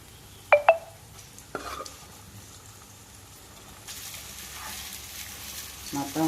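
Small potato pieces drop into hot spice masala in a pan, a couple of sharp clinks of utensil on metal followed by a soft, low sizzle that swells and continues faintly.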